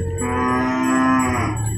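A water buffalo at the Purwakarta livestock market gives one loud, close, drawn-out moo lasting nearly two seconds, with a faint murmur of the market behind it.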